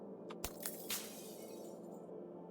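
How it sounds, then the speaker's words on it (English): A glass door breaking in the video game Cataclysm: The Last Generation: a few sharp shattering cracks in quick succession that ring out and fade over a steady low background drone. "You hear glass breaking. I think he came through the door."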